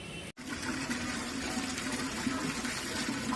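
Rice being poured into heated water in a home kitchen pot, a steady rushing, bubbling liquid wash after a brief gap at the start, close and continuous.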